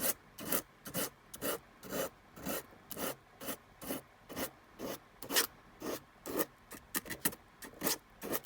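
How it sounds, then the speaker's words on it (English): Sandpaper works at dried glue on a small craft box, rasping in quick, regular back-and-forth strokes, about two per second, close and fairly quiet with no voices. "once it's dry, you can remove it with your sandpaper"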